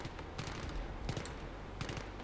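Gunfire in the Battlefield 3 multiplayer beta on PC: a few faint, spaced bursts of shots over a low steady background, with no speech.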